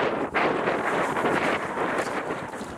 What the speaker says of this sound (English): it's wet, mucky, windy and cold.